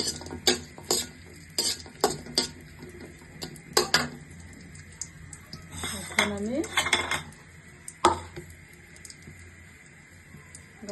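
Carrots for payesh, stirred in a pan with a spoon: irregular metallic clinks and scrapes against the pan come in scattered bursts, with only a faint sizzle underneath and no talking.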